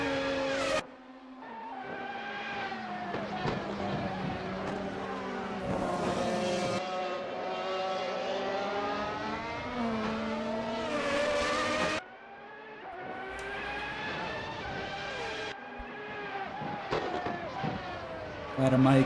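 F1 and GTCC race cars circling the Barcelona Street Circuit in a racing game: high, sustained engine whines rising and falling as several cars pass close by, with brief drops between them and commentary layered over the top.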